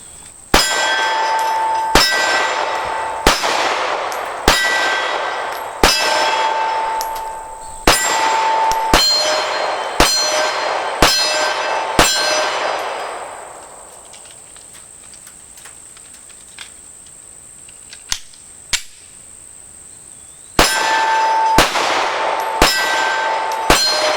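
A Kahr PM9 pistol fired at a shooting range: a steady string of sharp, ringing reports spaced about a second apart, then a quiet gap with a few faint clicks, then another quick run of shots.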